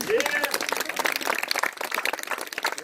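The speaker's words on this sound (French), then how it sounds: "on peut l'applaudir quand même" Audience applause at the opening of a village festival in Mécleuves, a dense wash of claps sustained throughout, with voices mixed in underneath.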